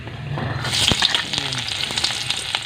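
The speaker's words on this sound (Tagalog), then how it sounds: "At dyan po sa ating pinag... Pirituan ay sasalang naman natin dyan yung ating gulay" Vegetables hit hot oil in a pan just used for a shrimp omelette, giving a loud, steady sizzle that flares up and keeps crackling close by without any talk.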